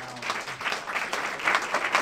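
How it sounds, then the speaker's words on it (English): A short burst of applause from a modest audience after a panel discussion at a tech meetup, steady clapping filling the room at moderate volume. "let's give a round of applause for the panel."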